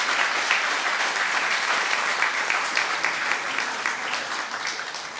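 An audience at a professorial inauguration lecture applauds: a loud, dense, continuous wash of clapping from a large crowd, sustained evenly and easing slightly at the end.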